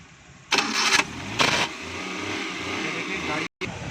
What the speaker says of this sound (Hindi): ये देखें, गाड़ी अभी स्टार्ट हो गई है।